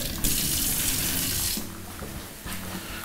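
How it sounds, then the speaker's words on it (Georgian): Water running from a kitchen tap into a vessel, a loud, close, steady gush that briefly eases midway and then resumes at full flow. "და ვიღებ წყალს ოდნავ."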